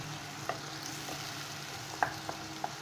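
Ground onion and green chilli paste sautés in oil for Golbari-style kosha mangsho, a steady sizzle with a few light clicks of a spoon stirring, no voices.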